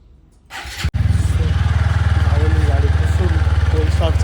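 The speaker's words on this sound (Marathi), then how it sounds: "चलियो आता मी जरा कोल स्टार्ट करतो बाईक" A TVS Apache motorcycle is cold-started up close. One sharp kick jolts the engine, which catches and settles into a loud, steady idle with an even throbbing beat for several seconds.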